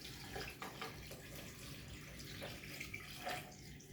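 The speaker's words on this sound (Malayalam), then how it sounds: "അപ്പം അതിനനുസരിച്ചുള്ള വെള്ളം ഇതിനകത്ത് ഒഴിച്ചു കൊടുക്കുക" Faint water pours into a jug in a kitchen as a soft, continuous trickling splash with light gurgles and no talk.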